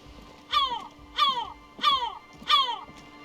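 A voice imitates a crow-like bird call in the Disco Elysium video game, giving four evenly spaced raspy caws, each a short descending squawk, clear and fairly close.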